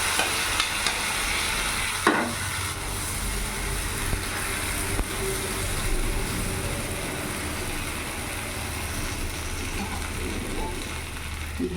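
Semolina cheela batter sizzles in a little oil on a pan with a steady hiss, a few scraping clinks, and a low hum underneath throughout.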